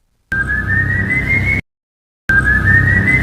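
A ghostly whistle in a horror cartoon: a steady, slightly rising high tone held for over a second, then a pause and a second identical blast, loud and alone.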